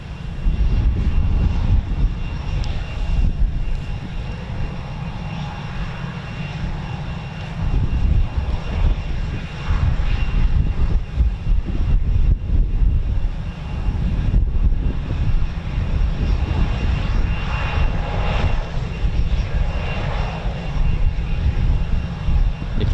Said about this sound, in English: No, this isn't a Typhoon. It's an Embraer.